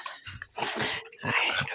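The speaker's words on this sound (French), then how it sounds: "Oh là, excité ce petit chien." An excited small dog making short, quick snuffling and yipping noises in close bursts, fairly faint and brief.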